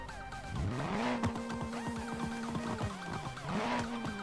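A car in the BeamNG.drive video game revs its engine, the pitch sweeping up, holding level with rough ticking, dipping and climbing again over a few seconds.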